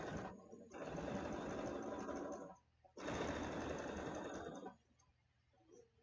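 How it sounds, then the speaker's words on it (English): Sewing machine stitching quilting fabric in two sustained runs of fast, even whirring separated by a short pause, close and clear, with faint movement after it stops. "use that knee lever to sew and lift your foot out of the way so that you can really get this material under the machine"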